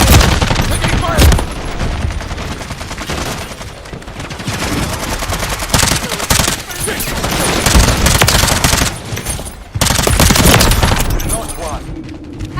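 Dense video game gunfire with rapid machine-gun bursts and booming shots fills the mix almost continuously, with a couple of brief gaps and voices talking underneath.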